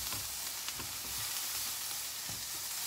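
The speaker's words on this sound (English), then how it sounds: "I'll just sear the pork, even though it's fully cooked, just to sear it even a little bit more." Fully cooked pork loin searing in a hot pan, a steady, close, even sizzle and crackle that holds for about three seconds with no talk.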